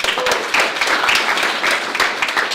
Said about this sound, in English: so a round of applause for Harvey Nash.